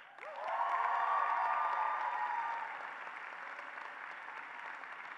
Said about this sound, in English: Please join me in a round of applause for Professor Acevedo.